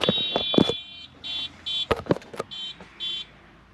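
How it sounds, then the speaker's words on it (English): Repeated electronic beeping horn from a small farm vehicle chasing cows nearby, sounding in a series of short bursts of varying length, with a few sharp clunks and knocks in between and no talking. "If you can hear a beeping horn, it's because it's a little razor thing going around the farm"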